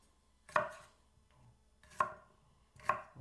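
Vegetables being chopped into large pieces on a board, three distinct sharp knife strikes spaced about a second or more apart, close and clear with quiet between.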